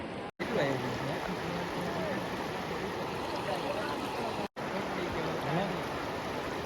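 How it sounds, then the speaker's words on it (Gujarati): A heavy stream of water pours out like a dam release in a continuous, loud, even rush, with faint voices blurred beneath the roar. "ડેમમાંથી જેવી રીતે પાણી આવતું હોય ને એવી રીતે જ આવે છે"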